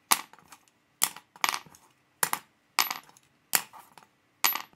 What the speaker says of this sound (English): I'll just open up this F pencil.